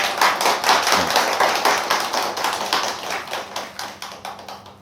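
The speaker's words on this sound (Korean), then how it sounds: "누군지는 모르지만 박수 한번 쳐줍시다." A Sunday church congregation claps hands: dense, loud, rapid applause that fades gradually over several seconds, with no talk.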